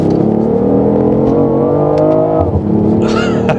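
Hybrid sports car with an electric motor accelerating hard, engine note rising steadily under load, loud and close, then a brief shift dip before pulling again with some whine.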